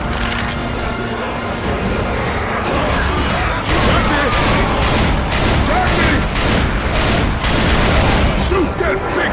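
Dense, rapid gunfire in the Left 4 Dead 2 video game, with volleys of sharp shots layered over one another in a loud continuous barrage, growing heavier halfway through, with voices talking over it.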